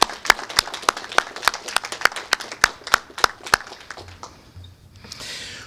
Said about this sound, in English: let's give our Illinois National Guard a big round of applause